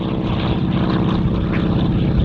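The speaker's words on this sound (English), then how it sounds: "he's got a polished T-6" A polished T-6 warbird making a flyby at the California International Airshow, its propeller engine giving a loud, steady, throaty drone that fills the whole stretch without pause.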